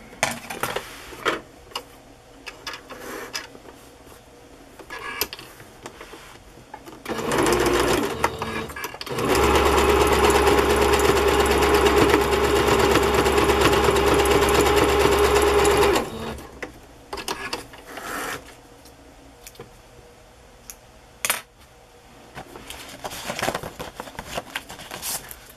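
A sewing machine runs a zigzag stitch across a fabric piece on a craft page: a steady mechanical whir that holds for several seconds, with quieter handling clicks and rustles before and after.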